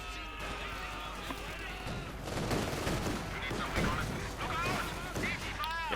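Anti-tank gun fire from an M42 in the Company of Heroes 2 battlefield, a dense fusillade of loud gunshots and blasts layered over continuous game battle noise, with a commentator talking throughout.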